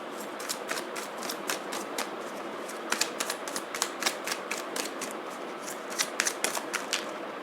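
Tarot cards being shuffled and drawn for a reading, giving a steady run of crisp, close papery flicks and snaps with a few sharper clusters, heard alone without talk.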